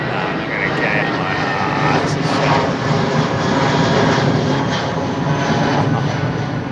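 An aircraft at Heathrow Airport drones with a loud, steady engine roar that holds throughout, close and continuous, with faint talk underneath.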